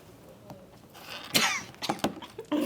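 A person coughs in a few short, rough bursts at close range, the loudest coming in the middle of the stretch, with breathy throat noise in between and no talking.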